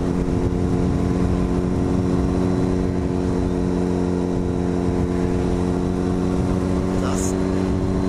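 A motorcycle cruises at about 40 miles an hour on a dual carriageway, its engine a steady low drone with heavy wind rush throughout, and no clear revving.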